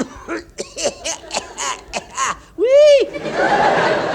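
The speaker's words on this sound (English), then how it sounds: "some medicine for that shocking cough of yours" In a radio comedy, someone speaks briefly, then a harsh cough breaks out, followed by a rough, rasping hack that trails off.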